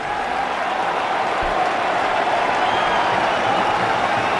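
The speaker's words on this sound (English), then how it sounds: "Nice round of applause." Steady applause from a large cricket stadium crowd marking Virat Kohli's century against Pakistan, a dense continuous wash of clapping and crowd noise throughout, loud and even with no break.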